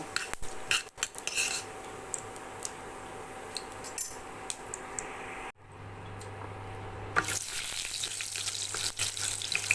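Chana dal is roasted dry in a pan, giving a soft crackling hiss with scattered light metallic clinks and scrapes, and a brighter, busier sizzle near the end.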